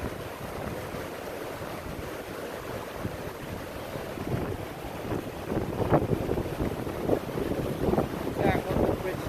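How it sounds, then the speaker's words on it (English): A powerful waterfall roars steadily below a bridge, a broad, continuous rush with wind buffeting the microphone and occasional louder surges. "there is the waterfall right here. So beautiful. So powerful."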